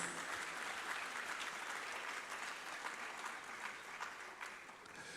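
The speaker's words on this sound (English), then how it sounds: "give yourselves a round of applause" Audience applause fills the room at the 15th MTN Pulse Transform Summit in 2024, a steady dense clapping that holds for the whole stretch without any talk over it.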